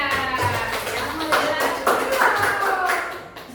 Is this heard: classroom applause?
yes